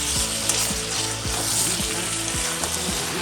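Mutton sizzling in released oil while being stirred, a dense continuous fry with regular scraping strokes of a spoon against the pan, close and fairly loud with no talking.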